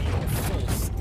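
Brief mechanical clack and ratcheting of a weapon being reloaded in the game Warhammer 40,000: Inquisitor, a short close metallic rattle lasting about a second, with a voice in the background.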